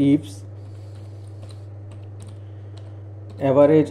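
Faint, quiet keystrokes on a computer keyboard tap out an Excel formula over a low steady hum, with a voice speaking briefly at the start and end.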